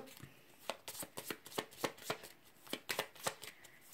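Tarot cards shuffled and drawn during a Cancer-sign reading: a steady run of crisp riffling and snapping card flicks, close and fairly loud, repeating in quick bursts with no talking.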